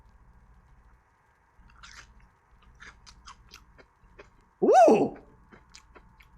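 Someone bites into crunchy-shelled, soft gelatinous lemon-flavoured candy, giving a loud close crunch after a few quieter mouth clicks and smacks, with a brief voiced exclamation.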